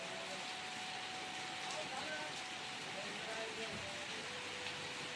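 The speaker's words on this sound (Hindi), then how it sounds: "ये देखिए कितनी तेज़ बारिश हो रही है।" Heavy rain pours steadily in the mountains as a continuous dense hiss of drops, fairly faint and even throughout, with a faint voice in the background.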